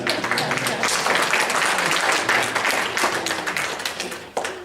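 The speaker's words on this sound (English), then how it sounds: "give a round of applause" At an improv comedy show, the audience gives a round of applause, sustained clapping from a crowd with a few louder claps near the close.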